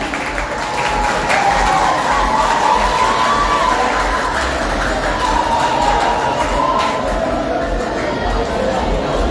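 An audience applauds and cheers for a contestant at a school quiz final between an Adventist school and Bon Berger school in Limonade, a dense, loud, steady roar of clapping and shouts that holds throughout.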